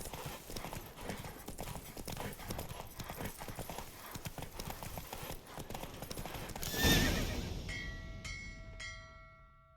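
Horse hooves galloping in a race in the Witcher 3 video game, rapid rhythmic clip-clop pounding that swells, then cuts to a loud burst and a ringing fading tone.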